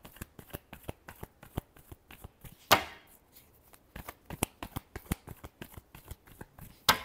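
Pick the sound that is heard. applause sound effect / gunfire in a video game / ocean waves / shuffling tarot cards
shuffling tarot cards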